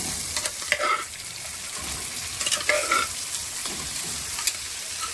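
Mutton frying in hot oil gives a constant close sizzle, with repeated scraping stirs of the spoon against the pan and no voices.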